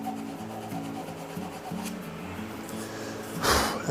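Hand sanding of a wooden handle through successive grits, a steady close rubbing rasp with a brief louder burst of scrubbing near the end.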